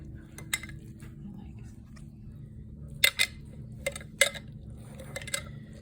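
Shredded cabbage being scooped into a fermentation jar and pressed down, heard as sporadic clinks and knocks of utensil on glass over a low background hum.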